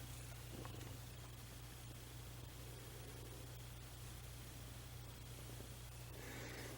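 A cat purrs steadily and quietly while its belly is petted, a soft continuous rumble under faint background hiss with no talking.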